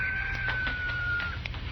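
Hens clucking in a radio drama barnyard scene, a few short clucks and a drawn-out cackle heard faintly over a low hum, moderately near.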